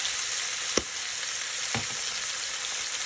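Vegetable and egg curry sizzling steadily in a frying pan, with two soft knocks of a utensil as it is stirred, fairly quiet and without talk.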